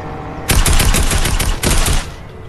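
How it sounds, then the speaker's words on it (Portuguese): Automatic gunfire in the Fortnite video game: two loud, rapid bursts of shots with a short pause between them, over quieter game background noise. "o tiro não vai no cara não"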